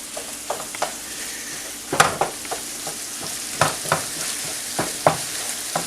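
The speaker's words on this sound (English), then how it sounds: "There's a sizzle going on there." Country fried steak frying in a pan with a steady sizzle and crackle, punctuated by several sharp scrapes and clinks of stirring or turning, close and fairly loud, no voices.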